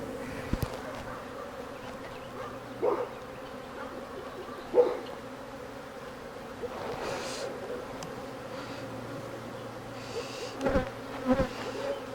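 Honeybees buzz steadily around open beehive frames while splits are made from swarm cells, a soft, close drone with occasional louder passes of individual bees.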